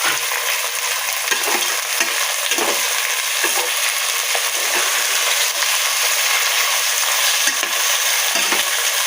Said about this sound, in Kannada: ಆಲೂಗಡ್ಡೆ, ಕ್ಯಾಪ್ಸಿಕಮ್ ಇದೆಲ್ಲ ಹಾಕಿ ಫ್ರೈ ಮಾಡ್ತೀನಿ.